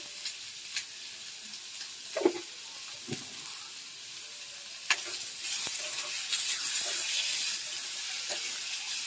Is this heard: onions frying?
yes